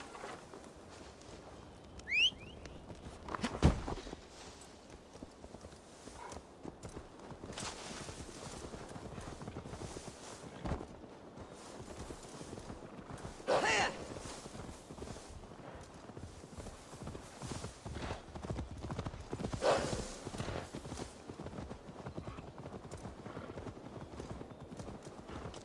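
Steady clip-clop of horse hooves walking in a video game, with a rhythmic patter running throughout, a few louder accents, and occasional faint ambient sounds in the background.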